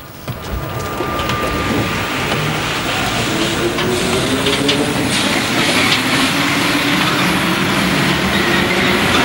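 A Paris metro train running, with a loud, steady rumble and faint rhythmic clatter that carries on throughout, with no talking.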